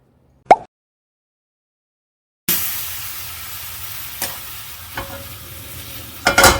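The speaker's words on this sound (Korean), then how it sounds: "그럼 바로 스테이크를 구워보겠습니다" A steak goes into a hot pan for searing. A single sharp knock comes first, then a pause, and then a steady loud sizzle starts abruptly and holds, with a few stirring taps and a louder burst near the end.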